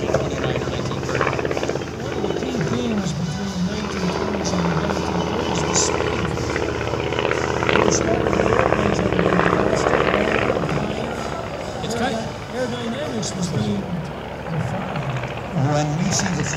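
A 1929–1930 Reuben Fleet Consolidated Fleet 7 biplane trainer passing at an airshow, its engine and propeller drone steady and fairly loud throughout, with crowd and announcer-style voices mixed underneath.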